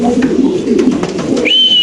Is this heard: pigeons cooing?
yes